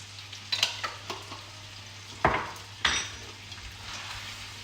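Chili flakes hit a hot pan of pasta sauce with tuna, giving a soft steady sizzle with a few sharper stirring and scraping knocks from a utensil against the pan, close by and with no voice.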